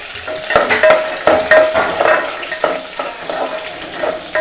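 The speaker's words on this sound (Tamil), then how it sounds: "பூண்டு நல்லா வதங்கிட்டு பாருங்க இந்த கலர் சேஞ்ச் ஆகிற வரைக்கும் நல்லா வதங்கணும்" Garlic sizzles in a pan for an egg kulambu while a spoon scrapes and stirs it in repeated strokes, a close, lively crackle with clinks from the utensil.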